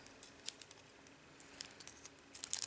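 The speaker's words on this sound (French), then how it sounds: "je vais peut-être prendre ma paire de ciseaux." Scissors snipping tape on Pokémon card tripacks, a scattering of faint, quick crisp snips and crinkles, some clustered, with a busier burst of cuts at the end and no talk.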